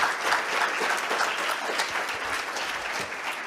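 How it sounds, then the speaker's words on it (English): An audience at the IEPRS 2022 conference gives a speaker a dense, steady round of applause lasting several seconds at a close, even level. "if everybody could give Dr. Bishop a round of applause"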